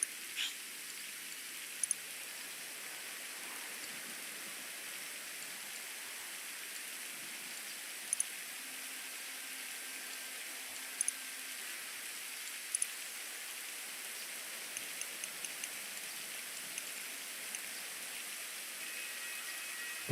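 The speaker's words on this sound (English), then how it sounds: "It's raining in Los Angeles." Steady rain falling in Los Angeles, a soft continuous hiss of drops with a few faint scattered ticks, heard alone at low level.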